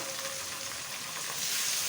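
Chicken and tomato masala sizzles loudly and steadily in a pan up close while being stirred, with a continuous hiss and faint scraping. No voices are heard.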